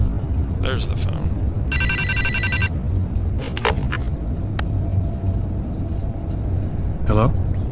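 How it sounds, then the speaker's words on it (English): An old-style telephone bell rings in a single loud burst in Indigo Prophecy, rising above a low engine-like hum and scattered game effects, with a voice talking nearby. "Oh, where's the phone?"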